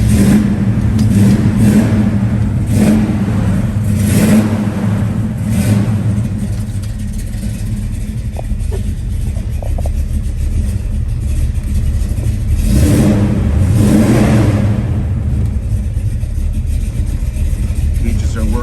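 A 1968 Chevrolet Chevelle with a 396 V8 and four-speed manual runs loud and close, its rumbling engine rising in several revving surges over a continuous idle, with a voice heard briefly over it.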